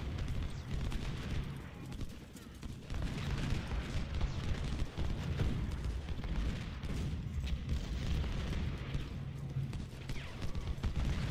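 Battlefield din from the Antietam battle in Ultimate General: Civil War, with artillery fire and musketry as a continuous rumbling barrage of overlapping booms at moderate level throughout.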